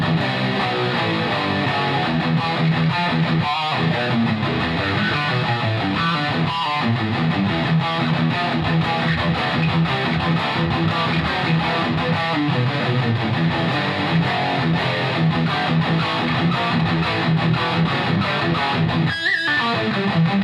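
Electric guitar played through a Bugera 6260 amp head and matching cab on its high-gain lead channel, heavily distorted riffs and sustained chords, loud and continuous with short breaks between phrases.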